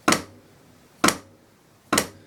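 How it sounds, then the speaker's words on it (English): Three sharp flam drum hits spaced about a second apart, each a crisp snare strike with a quick decay, played alone without talk. "the easiest rudiment technically on this list, which is the flam"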